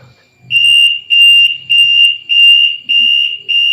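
A drowsiness-detecting helmet's buzzer alarm sounds in six loud, shrill, steady beeps of roughly half a second each, separated by short gaps, with faint low rumbles in between.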